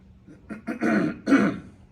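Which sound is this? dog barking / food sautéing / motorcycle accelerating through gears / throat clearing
throat clearing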